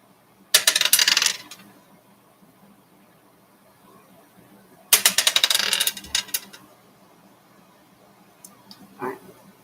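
A single die rattles and clatters across a hard surface in two separate bursts a few seconds apart, each lasting about a second, crisp and close, with quiet between them.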